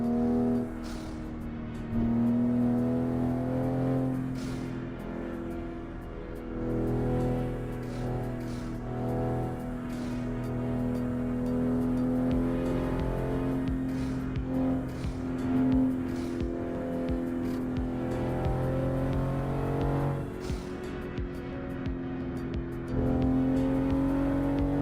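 Simulated engine of a Toyota Supra MK5 driven in American Truck Simulator, a steady continuous drone with rising and falling revs and occasional shifts, loud and alone throughout.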